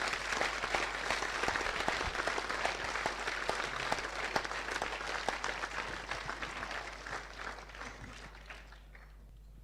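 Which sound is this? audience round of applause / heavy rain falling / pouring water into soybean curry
audience round of applause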